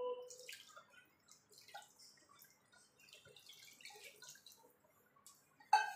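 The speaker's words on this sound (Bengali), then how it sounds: "এবার পরিষ্কার জল দিয়ে ধুয়ে নেব।" Clean water trickles and splashes sparsely as strained chhana cheese is rinsed, quiet drips and small gurgles close by, ending in a sudden louder splash.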